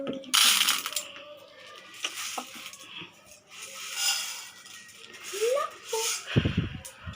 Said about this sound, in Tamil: நெக்ஸ்ட் இப்போ 1 கைப்பிடி உளுந்து எடுத்து போட்டுக்கலாம்